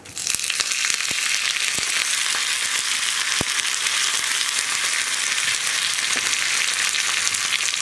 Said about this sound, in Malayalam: വറ്റൽമുളകും കുക്കായി തുടങ്ങുമ്പോൾ നമുക്ക് 1 പിടി കറിവേപ്പില,